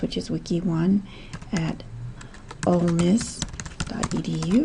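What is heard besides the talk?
typing on a computer keyboard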